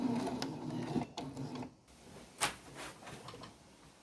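Sewing machine stitching the final seam on slippery fabric, a steady motor whir for under two seconds that then stops, followed by faint handling clicks and rustles.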